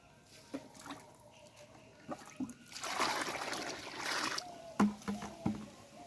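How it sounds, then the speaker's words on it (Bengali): Water pours and splashes into a container of fresh cow-dung liquid fertilizer for a couple of seconds, surrounded by soft sloshing and a few knocks, fairly quiet and close. "পানি লাগবে সেটা পানি দিচ্ছি"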